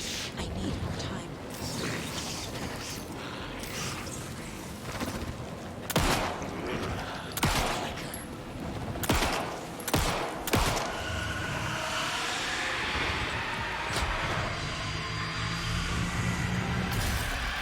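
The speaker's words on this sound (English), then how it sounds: "shooting him a few times 2 more to go" Gunfire in the video game Alan Wake 2, several sharp shots spaced across the scene against a busy background of game noise and movement.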